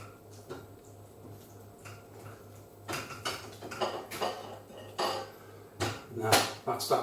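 A utensil scrapes and knocks against a pan while sauce with chives is stirred, giving irregular close clinks and taps that build in loudness, with a person talking in between.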